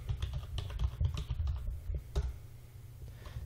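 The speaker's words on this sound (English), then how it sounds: "then we'll type in where we want to copy it to" Rapid, uneven clicking of a computer keyboard as someone types a command, close and clear with short pauses between bursts of keystrokes; no voices.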